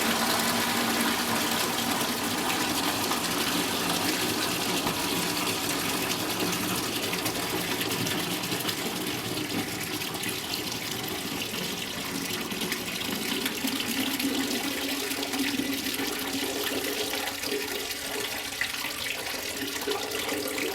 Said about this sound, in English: now we're going to see how fast 15 liters of water go through this bucket